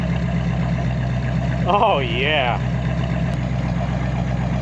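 A 1967 Buick Riviera idles with a steady, deep exhaust rumble, loud and close throughout, while someone briefly speaks over it.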